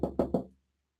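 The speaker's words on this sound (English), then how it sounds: "I would walk up to somebody and we'd knock on the door." Three sharp knocks on a door in quick, even succession, close and fairly loud, each with a short resonant decay, then silence.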